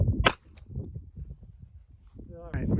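A gunshot strikes steel-backed body armor with a single sharp crack right at the start, followed by low rumbling noise. A voice begins speaking near the end.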